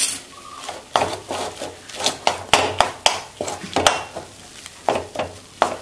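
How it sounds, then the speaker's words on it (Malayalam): A spoon stirs taro and dried shrimp curry in a pot, giving close, rhythmic scraping and rubbing strokes about once a second with a soft sizzle beneath. "നമുക്കൊന്ന് ഇളക്കി കൊടുക്കാം"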